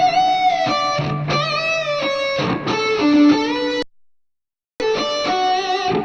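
Distorted electric guitar playing a quick lead phrase with string bends at close to full speed, loud sustained notes that cut off abruptly into a second of silence before the playing resumes.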